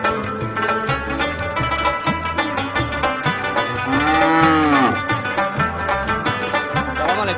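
Cattle low repeatedly at a crowded livestock market in Taloqan, several long, loud moos rising and falling over a steady rhythmic background din.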